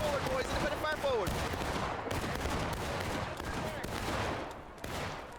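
Gunfire rattles almost nonstop in a War of Rights battle, scattered musket shots cracking near and far in ragged volleys, while voices shout over the din.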